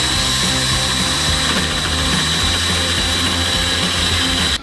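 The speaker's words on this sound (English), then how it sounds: "It's like a little hole saw really, so it cuts around the outer edges of the spot weld" A spot weld cutter, a small hole-saw-like drill bit, grinds steadily through spot welds on a Porsche 914 body, a loud continuous drill whine with a high tone throughout, alone without voices.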